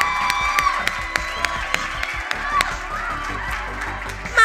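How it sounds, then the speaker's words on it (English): A conference audience claps briskly in sharp, rhythmic bursts, with scattered whoops and loud chatter over the steady applause. "I need a more lively clap."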